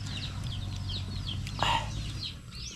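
Chickens cluck in short repeated calls close by over a low background rumble, with one louder squawk midway.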